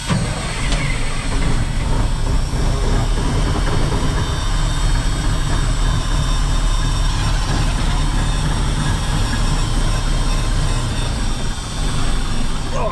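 A truck engine idles cold after sitting overnight on a chilly night, giving a loud, steady, low rumble that continues unbroken throughout.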